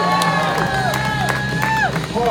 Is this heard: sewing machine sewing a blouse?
no